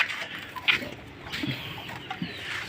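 A brooding hen sitting on eggs gives soft, scattered low clucks and murmuring grunts close by, irregular and quiet over a faint background.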